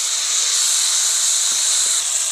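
Chicken skin and potato frying in hot oil, a loud, even hiss that holds steady from start to finish, with a couple of faint low knocks partway through.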